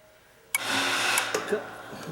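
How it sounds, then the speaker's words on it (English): A septic system pump starts abruptly and runs as a steady broadband whir during a pump test at a septic system replacement, loud and continuous with a few small surges. "And then we hit the pump test."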